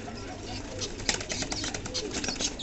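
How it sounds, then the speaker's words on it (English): Fancy pigeons bathing in water flap their wings in a dense, close wash of splashing and fluttering, with soft cooing mixed in. "these birds are flapping their wings."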